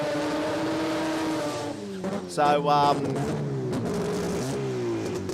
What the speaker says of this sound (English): listen to that 3RZ now